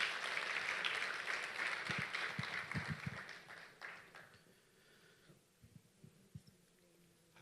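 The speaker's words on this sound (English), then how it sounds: "A round of applause for her, please." Audience applause at an ICT summit, a dense wash of clapping that is strong at first and then thins out to scattered claps, with low thumps mixed in.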